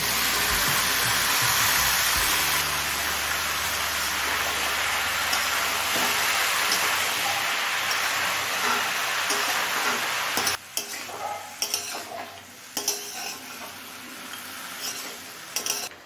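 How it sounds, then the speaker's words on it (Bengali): Water lily stems are stirred through a fish head curry in a hot pan, producing a dense sizzling hiss with scraping strokes that drops to softer, intermittent stirring and bubbling about two-thirds through. "শাপলা দিয়ে সব কিছুর সাথে মিশিয়ে নিলাম"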